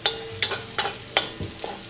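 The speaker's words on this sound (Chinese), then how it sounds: "然后加入干辣椒面继续炒，这个时候火可以小一点" Chili powder and garlic stir-fried in a wok for mapo tofu produce a quiet sizzle punctuated by four or five evenly spaced, crisp spatula scrapes against the pan.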